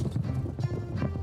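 Horses' hooves clip-clopping steadily as riders pass, a quick close rhythm of hoof strikes with a faint whinny-like tone underneath.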